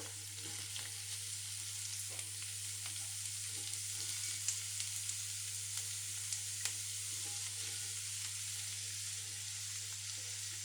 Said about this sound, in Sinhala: මම මේ බීට් ටික මේකට එකතු කරනවා